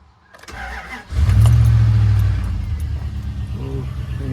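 A Dodge Dakota pickup with a 4.7 engine, cold after sitting for four days, cranks briefly and then fires into a loud, rough idle close by, with a voice speaking over the start.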